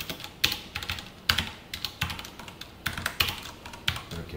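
Code being typed on a computer keyboard during a C programming lesson, with rapid clusters of crisp, close key clicks in uneven bursts and short pauses, and no talking.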